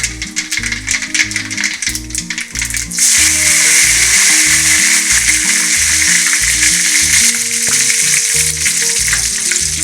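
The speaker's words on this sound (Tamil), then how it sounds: "கடுகு நல்லா பொரியுது." Mustard seeds spluttering in hot oil as the base for a fish curry: a loud dense crackle over a rhythmic rattling pulse that gives way to a steadier, brighter hiss of frying.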